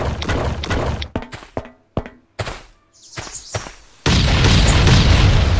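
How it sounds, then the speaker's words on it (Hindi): Bombs blowing up in a survival shooter game, several heavy booms and thuds with shattering debris across the first half, then a loud sustained roaring blast filling the end. "हम लोग यहाँ पे लगाते हैं बम।"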